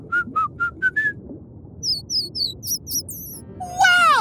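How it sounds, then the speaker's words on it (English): A cartoon dolphin's signature whistle comes as a run of short rising chirps, then quick squeaky whistles and a final loud sweeping trill, all high-pitched over a soft underwater-like background. "Dolphins communicate with their signature whistles and chirps."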